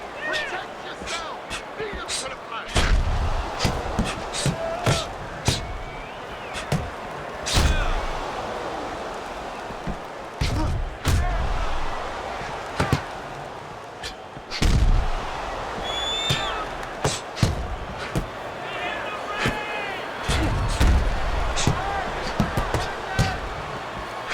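Punches thud and smack inside the ring in Fight Night Round 4, a boxing video game with Hagler throwing counters: a run of sharp, loud impacts at irregular intervals over crowd noise, with a commentator talking throughout.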